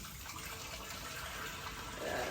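Tap water runs steadily into a sink as chicken and beef bones are rinsed for broth, a faint, even hiss and splash with a slight rise in flow toward the end.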